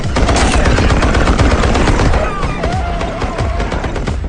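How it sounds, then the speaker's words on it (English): Heavy machine gun fire in a movie battle scene, loud dense bursts of rapid shots cracking close without pause and thinning slightly toward the end. "These creatures, which had shrugged off bullets before, were finally torn apart under heavy machine gun fire."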